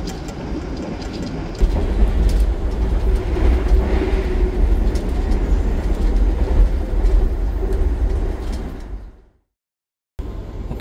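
A KA Menoreh economy-class passenger train in Indonesia rumbles steadily along the rails near Cikarang station with a low, continuous roar and faint clatter, then the sound cuts out briefly near the end.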